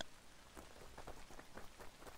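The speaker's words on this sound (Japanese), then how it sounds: "雨が降ってきた。" Rain patters steadily with scattered louder drops striking a surface, fairly quiet and continuous, no voices.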